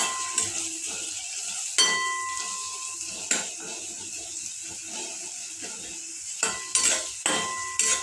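Finely chopped onions are stirred in a pan. A spoon scrapes and clinks against the metal in irregular taps over a faint sizzle, with quiet gaps between the strokes.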